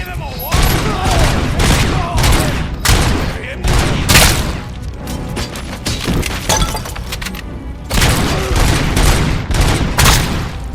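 Rapid gunfire from a hand cannon in the video game Robocop Rogue City, loud bursts of shots with crashing, breaking impacts packed across the whole stretch, game voices mixed in between volleys.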